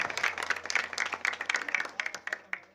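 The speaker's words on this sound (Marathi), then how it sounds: "जोरदार टाळ्या महाराज." An audience at a Shivaji Jayanti kirtan claps in loud, rapid applause that starts at once and runs throughout, steady and dense before tapering slightly near the end.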